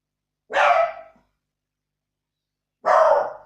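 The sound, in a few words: dog barking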